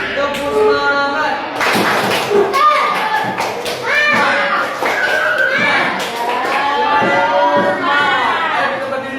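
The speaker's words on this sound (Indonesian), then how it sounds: "Ya, tepuk tangan buat dia semua." An audience claps for someone at an Indonesian religious gathering, with children's voices and chatter mixed in. The applause comes in scattered bursts throughout, layered with loud talking.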